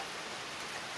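Steady rain falling on a breakfast morning, a dense continuous hiss of drops on surfaces, fairly close and even throughout with no voices.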